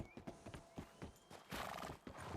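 Horse neighing with rhythmic clip-clopping hooves, a quick series of hoof strikes followed by a loud whinny, fairly close and without talk.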